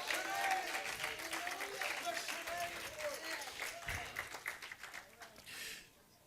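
A church congregation claps in praise during a sermon, a steady rhythmic clatter of hands mixed with crowd voices and a few shouts, fairly quiet overall and fading out abruptly near the end.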